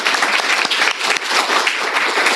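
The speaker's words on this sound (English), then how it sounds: "I want us to all give a big round of applause to our expert panelists" An audience gives sustained applause for a panel of product career experts, dense steady clapping filling the whole stretch at close range.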